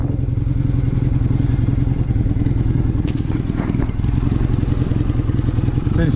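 An engine runs with a temporary test fuel tank fitted, a loud, steady mid-pitched chugging idle close by, with brief metallic clatter partway through.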